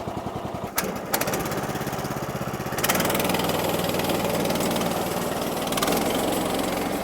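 An engine cold-starts with a brief cranking clatter, catches, and settles into a loud, steady, lumpy idle that runs on without talk.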